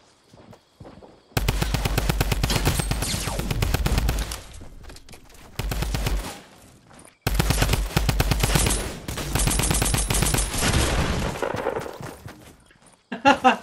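Rapid automatic gunfire from a Tommy gun in the battle royale video game Fortnite, loud bursts of sustained rattling fire broken by short pauses, with a couple of heavier booms near the end.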